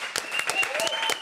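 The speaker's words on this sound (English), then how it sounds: "Come on, clap it up." An audience applauds comedian Tony T. Roberts in a short, dense burst of clapping, with a voice talking over it.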